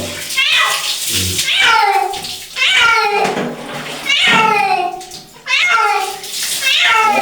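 Cat meowing and caterwauling loudly while being bathed, with repeated drawn-out wails in a steady rhythm close by, and faint water sounds underneath.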